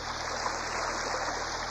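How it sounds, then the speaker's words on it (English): A waterfall tumbling and splashing as a cassette sound effect: a steady, close, unbroken rush of falling water with no voices. "The waterfall began to tumble and splash real water."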